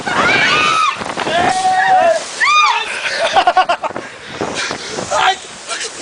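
Cold water splashing and sloshing over riders on the Rio Bravo raft ride at Hopi Hari, loud and close, mixed with shrieks, shouts and excited voices throughout.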